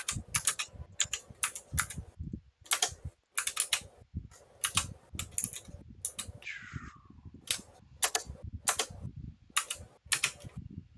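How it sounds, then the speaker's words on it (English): Hard, deliberate keystrokes pecked out one at a time with a single finger on a computer keyboard, sharp clacks in an uneven rhythm, close and fairly loud, with no talking. "typing with one finger really hard"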